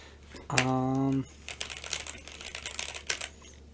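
Typing on an NZXT Function mechanical keyboard: a brief voiced tone, then a run of quick irregular key clicks and clacks, close and moderately loud.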